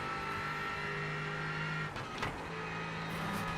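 Race car engine in the sim racing game iRacing, a steady sustained engine drone with a brief dip in pitch near the middle before holding steady again, up close and continuous with no talk.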